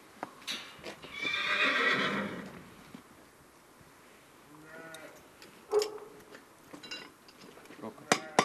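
A horse stands being shod at a farrier's, letting out a loud close whinny early on, followed by scattered hoof knocks, shuffles and sharp clatters through the rest.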